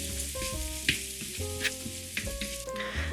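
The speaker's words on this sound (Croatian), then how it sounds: "Tiganj stavimo na srednju do jaču vatru i kad krene ovako luk polako da se prži" Onion sizzles in a pan over medium-high heat, a steady frying crackle with a few sharp clicks of stirring, heard close and alone without talk, while faint tonal hum lines run underneath.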